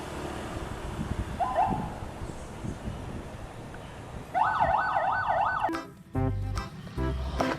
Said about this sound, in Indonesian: Mobil patroli polisi teman-teman.